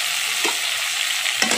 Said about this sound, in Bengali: দিয়ে একটু ভালো করে নাড়াচাড়া করে ভাজা ভাজা করে নিচ্ছি।